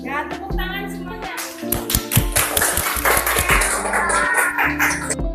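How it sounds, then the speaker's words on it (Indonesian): Schoolchildren in an Indonesian classroom clap their hands together in a busy, uneven patter of crisp slaps, mixed with voices and other room noise. "Ya, tepuk tangan semuanya."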